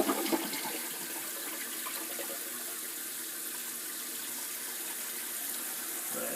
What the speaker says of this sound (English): We'll try to flush that.